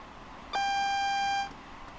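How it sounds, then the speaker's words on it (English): A single steady electronic AWS warning beep sounds in the cab of a Class 166 train in Train Sim World, one loud tone lasting about a second against quiet cab background. "And it's the AWS."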